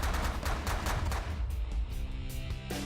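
Spaceship weapons fire in The Last Federation, a space strategy game: a dense, continuous barrage of rapid, overlapping blasts, loud and steady throughout with no pauses.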